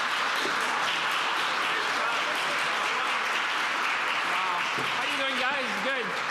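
Applause fills a hall as an audience welcomes Canada's finance minister François-Philippe Champagne to a Budget 2025 armchair conversation, steady and dense throughout, with cheering voices rising near the end.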